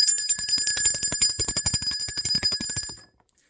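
A small bell, like a bicycle bell, rings in a rapid metallic trill for about three seconds, then stops abruptly into silence.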